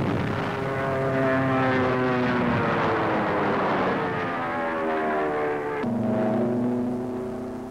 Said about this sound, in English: the carrier's warbirds swoop back to their nest